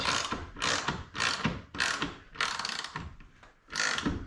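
A ratchet wrench cranks down the top bolt on a wheelchair door of a 2002 MCI bus conversion, giving about seven rapid clicking bursts in a steady back-and-forth rhythm, close up with no talking.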